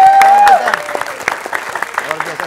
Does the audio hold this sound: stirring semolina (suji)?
no